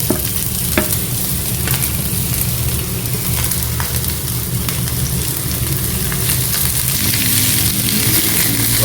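Vegetables, including carrot, sizzle steadily while being sautéed in a pan, with occasional light clicks of stirring over the continuous frying hiss and no voices.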